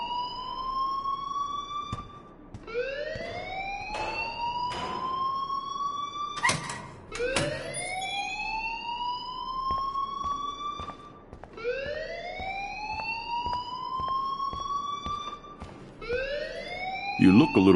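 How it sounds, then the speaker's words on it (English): A wailing alarm in the video game Life is Strange rises in repeated sweeping cycles, steady and moderately loud for the whole stretch, with faint sharp knocks and clatter scattered underneath. "please turn off that alarm since that's your job."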